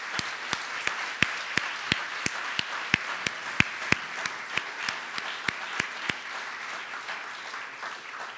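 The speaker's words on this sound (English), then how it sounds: "let's give a huge round of applause to everybody" An audience at a 3MT/MT180 research presentation competition applauds steadily throughout, a dense even clapping wash with sharp individual claps standing out near the front, easing slightly toward the end.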